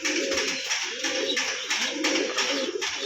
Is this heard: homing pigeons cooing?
yes